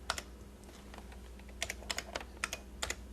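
A standard AT computer keyboard from the mid-1980s clatters under light typing, with quiet scattered keystrokes at first and then quicker clustered clicks over a low steady hum.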